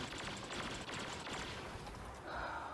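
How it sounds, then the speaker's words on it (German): Blaster fire in the video game Star Wars Battlefront (2015), rapid bursts of shots rattling over a dense battle din, fading to quieter ambience near the end. "Mann, die Schüsse aktivieren direkt das Schild."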